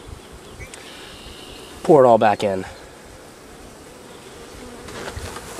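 Honey bees hum in a dense, steady drone while a box of bees is poured into a hive. Someone speaks briefly over the buzzing partway through, and the hum continues throughout.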